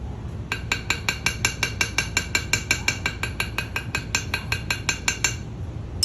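A small hammer taps a bezel-set ring holding a rose cut gemstone to stretch it, producing a steady series of about twenty crisp metallic clinks, close and evenly spaced at roughly three or four per second.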